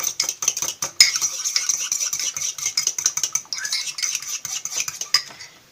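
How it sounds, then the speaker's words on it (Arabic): A spoon stirs cumin, salt, chili and garlic into tahini in a bowl, making rapid, close, repeated metallic scrapes and clinks in a busy rhythm that goes on throughout. "هنقلبهم كده حلو مع بعض كده"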